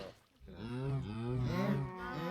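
A Minecraft cow moos in a long, low, wavering bellow that rises and falls, fairly faint and alone after a brief quiet start.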